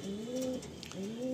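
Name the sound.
pigeon cooing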